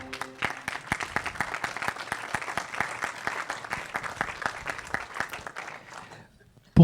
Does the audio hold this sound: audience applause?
yes